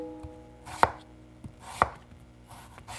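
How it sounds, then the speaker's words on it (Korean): A few slow, deliberate knife cuts thud onto a cutting board, slicing firm Korean radish into thick strips, close up with quiet gaps between strokes. "도톰하게 채 썰어줍니다"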